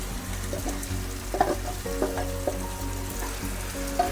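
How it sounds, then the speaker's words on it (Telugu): Marinated chicken hits a hot pan of tomato masala for a curry, giving a steady close sizzle and frying hiss with faint stirring clinks and scrapes over the bubbling. "ఇప్పుడు మనం 10 నిమిషాలు కలిపి పెట్టుకున్న చికెన్ వేసేద్దాం"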